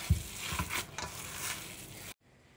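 Syrniki, cottage cheese pancakes, fry in a hot pan, giving a steady close sizzle with a soft thump at the start before the sound cuts out near the end.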